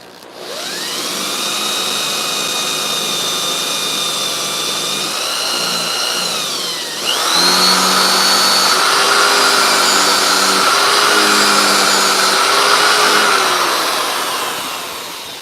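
A power drill bores into wood at a hot tent campsite, giving a loud, steady whine that dips in pitch midway and then holds on for about fifteen seconds.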